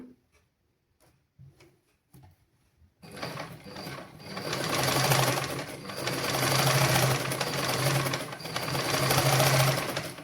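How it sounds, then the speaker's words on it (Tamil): A few soft clicks give way to a sewing machine stitching on old cloth in a basic tailoring lesson, a loud, close, rapid mechanical whirring that runs steadily for several seconds. "இந்த பழைய துணியில் தான் நாங்கள் முதல்ல தைச்சு பார்க்கணும்"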